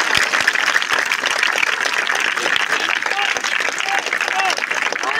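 Audience clapping at a magic show, a dense continuous wash of applause that holds steady at full loudness throughout, with voices mixed in among the crowd.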